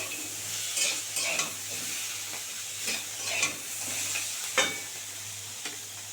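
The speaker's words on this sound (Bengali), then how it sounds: "বন্ধুরা আলু বেগুন শিম সব ভালো করে ভাজা হয়ে গেছে" Potatoes, eggplant and beans fry in a pan with a steady close sizzle, broken every second or so by scraping stirs of the spatula against the metal. A low hum runs underneath and no one speaks.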